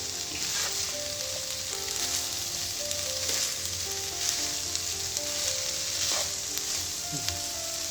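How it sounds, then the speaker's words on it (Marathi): Mixed vegetable bhaji with plenty of coconut sizzles steadily in a pan as it is stirred, a continuous frying hiss with faint scraping, and no one talking. "भाजी ढवळून घेऊ।"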